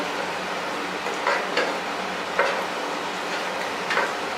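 Steady hiss of pork sizzling as it is stir-fried in a hot pan, with occasional scraping and clacks from a utensil stirring, close by and continuous.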